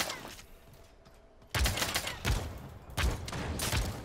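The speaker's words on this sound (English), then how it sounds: "That's a shotgun." Shotgun blasts in the video game Realm Royale, three loud, booming shots spaced about a second apart, each with a sharp attack and a lingering tail, close and dominant.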